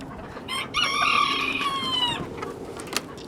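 A Tracy Hill game bantam rooster in a pen crows once, a loud, close, drawn-out call lasting about two seconds with a falling finish, followed by faint barnyard noise.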